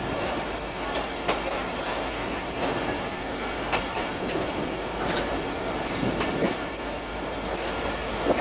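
The Mohenjodaro Express passenger train rolls past nearby with a steady, loud rumble and rhythmic clickety-clack of wheels over rail joints, with occasional metallic squeals throughout.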